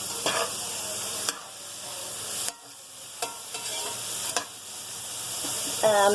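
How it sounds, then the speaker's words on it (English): Vegetables sautéing in a pan for broccoli cheddar soup, a steady sizzle with scraping stirs and several sharp utensil knocks, close and moderately loud, with no talk. "And I am sauteing my vegetables."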